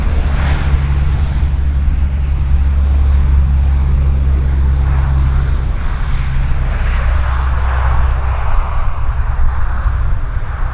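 An RCAF C-130 Hercules turboprop takes off at a CFB Comox air show, a loud, sustained low engine roar with a constant propeller drone throughout.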